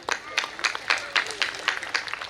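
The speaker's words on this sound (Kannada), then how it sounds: "ಒಂದು ಚಪ್ಪಾಳೆ ಸಲ್ಲಲಿ." An audience at an annual temple festival at a Bhagavathi shrine claps in a steady, even rhythm, with sharp close claps repeating about four times a second.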